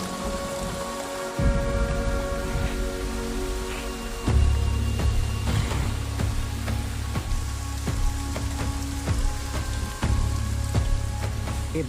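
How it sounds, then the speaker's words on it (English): Steady rain falls after a long drought in the African wild, a dense continuous hiss with scattered distinct drops and a low rumble beneath. "finally, the rains broke"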